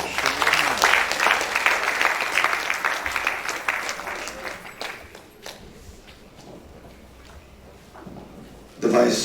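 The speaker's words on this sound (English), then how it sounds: "Please give me a round of applause." Applause from an audience at a valedictory lecture, a dense round of clapping that thins out and fades midway, leaving quieter scattered sounds and a brief loud bump near the end.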